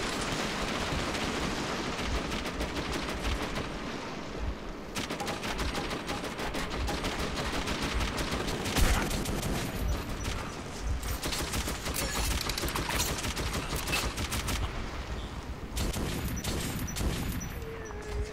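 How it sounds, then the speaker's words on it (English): Dense, continuous gunfire from the video game Metro 2033, with repeated shotgun blasts blending into a rapid fusillade of shots and impacts that runs steadily for about eighteen seconds without talk. "he's shotgunning"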